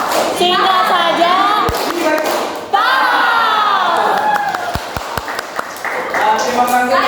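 A group of students in a classroom performs a short clapping chant, loud shouted voices in unison punctuated by a few sharp, separate claps.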